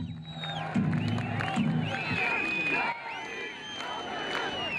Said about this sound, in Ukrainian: Багато учасників процесі вигукували гасла на підтримку РПК і на підтримку миру.